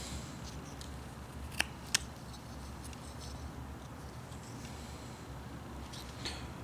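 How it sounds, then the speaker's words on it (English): A knife tip cuts into wood while whittling a Norwegian couple figure: quiet, close carving scrapes and two crisp snicks in quick succession against a soft background hiss. "I take the tip of my knife and I cut that part in there"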